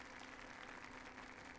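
Sustained applause from an in-game crowd in Yakuza 0, dense and steady clapping with a faint murmur underneath, filling the whole moment without pause.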